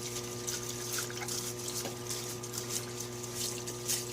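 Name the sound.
cleaning fluid flowing in an Eastwood parts washer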